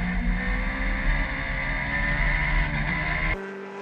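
Racing cars at Kirkistown circuit in a sevens challenge race, a steady loud drone of engines running close together throughout, cutting to a quieter lower hum near the end.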